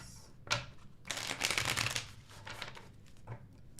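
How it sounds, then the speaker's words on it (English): Tarot cards being shuffled by hand during a love tarot reading, giving a quick riffle burst then a longer run of dense papery flutter and soft taps, close and moderately loud with no talk. "2 more shuffles."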